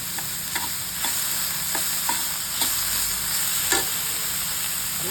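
Chopped onions sautéing with salt in a pan, a steady close sizzle broken by regular light scrapes and taps of a stirring spoon, with no voices.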